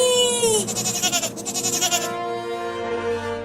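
A cartoon goat in a Hindi animated comedy lets out a loud, close, wavering bleat with several quick pulsing bursts, then a trailing lower bleat.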